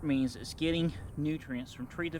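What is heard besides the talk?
None of the usual background noises is heard.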